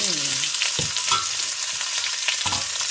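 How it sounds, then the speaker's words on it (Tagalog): Onion and garlic hit a hot pan for pancit bihon, a steady close bright sizzle with a few stirring scrapes and clinks, no talking. "Ilagay na natin ang ating sibuyas at bawang."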